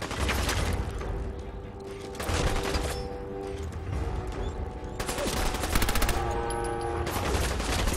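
Rapid bursts of automatic gunfire from a Fallout 4 firefight ring out loudly and continuously, with dense volleys stacked over heavy booming low end and brief lulls between flurries.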